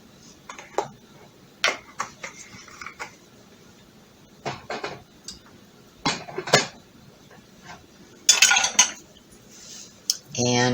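Seasonings, including cilantro and basil, being mixed in a bowl with a utensil: sparse, sharp clinks and scrapes of metal against the dish, close up, with a louder flurry of clatter near the end.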